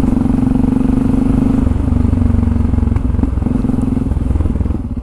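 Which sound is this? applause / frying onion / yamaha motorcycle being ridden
yamaha motorcycle being ridden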